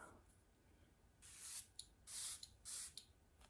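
Patrick Ta Dewy Milk Mist setting spray misted onto a face in three quick hissing bursts, each a short airy spritz, close and clear against a quiet room.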